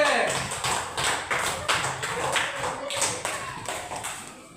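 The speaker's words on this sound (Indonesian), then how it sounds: "Tepuk tangan untuk kelompok D." A small group claps for group D in a classroom-style gathering, a loose, uneven run of hand claps and taps with distinct individual strikes, fairly close and moderately loud, with voices mixed in.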